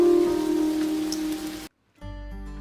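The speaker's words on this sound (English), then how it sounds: "One morning, when he was about to leave for school, it started raining." Rain falling in a continuous hiss, mixed with a steady tone, that cuts off abruptly before a different tone takes over.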